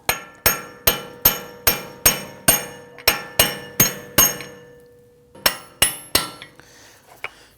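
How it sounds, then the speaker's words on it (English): Sharp metallic hammer strikes on a brass punch against a CV axle on a 2009-2017 Volvo XC60, a steady run of about a dozen evenly spaced ringing taps, a pause, then a few more blows. "Then we're going to use a brass punch here. I want to go ahead and tap this."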